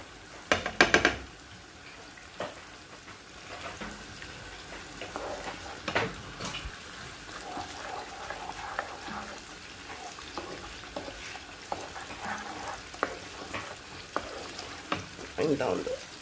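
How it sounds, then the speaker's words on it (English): Blended crayfish goes into a hot pan and sizzles and fries, with stirring, clinks of pot and utensil, and splashes. The sound is fairly quiet and close, with a louder clatter near the start. "So I'm adding my blended crayfish."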